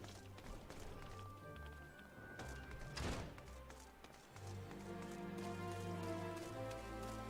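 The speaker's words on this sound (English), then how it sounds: "Now it's raining." Soft, steady rainfall patters in Final Fantasy XIV gameplay, quiet and continuous with faint game music and sounds beneath it.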